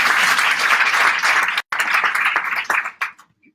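Audience applause at a Persian Women In Tech anniversary event in London: dense clapping from a crowd, loud and close, with a brief cut midway before tapering off into scattered claps and near silence.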